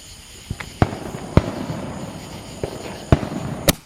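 Fourth of July firework mortars explode in a run of sharp, loud booms, about six bursts spaced irregularly over a few seconds against a steady outdoor background.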